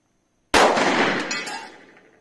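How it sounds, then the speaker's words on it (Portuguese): A TS9 pistol firing ogival-nose 9mm Luger ammunition into a 2mm steel plate gives one sharp, loud report with a metallic impact that rings and decays over about a second and a half. "Disparo efetuado com a TS9, munição ogival"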